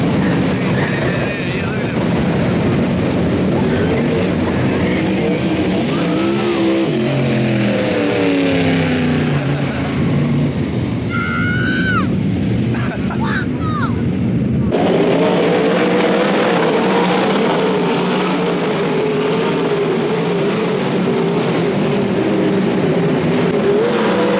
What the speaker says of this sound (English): Cars are rolling back. B-Main about to get back underway.